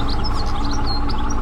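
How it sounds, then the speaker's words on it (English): Birds in a driving video game chirp in quick, high tweets that keep coming over a loud, steady low rumble filling the background. "Yeah, those are birds chirping."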